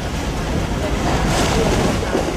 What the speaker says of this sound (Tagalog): Malakas ang hampas ng alon at naramdaman naming binabayo nito ang aming barko na pagewang-gewang sa alon